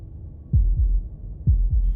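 Heartbeat effect in the video game Slay the Princess: two pairs of deep, booming lub-dub thumps, close and loud over a quiet low hum.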